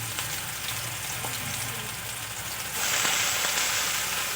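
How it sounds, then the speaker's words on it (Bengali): Potatoes and carrots frying in hot oil, a steady close sizzle that holds through the clip and swells louder partway as the pieces settle or get stirred. "আলু আর গাজর কিছুক্ষণ ভেজে নেব"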